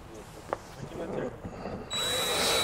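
A cordless screwdriver drives a self-tapping screw through a pre-drilled hole into Cedral fiber cement siding. After quiet handling noises, the motor starts near the end as a close, steady whine that holds to the close.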